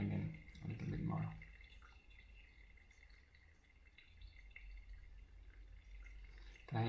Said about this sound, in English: This coffee is pouring down, or the stream is quite consistent, you can hear.